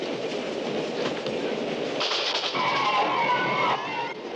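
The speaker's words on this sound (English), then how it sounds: "We gotta stop this train." A runaway train rolls along its rails in a Western action chase toward the Mexican border, a steady loud rumble of wheels with a brighter metallic squeal rising midway.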